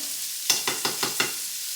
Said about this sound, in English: you want to saute them till your onions get translucent, and then you add your tomato paste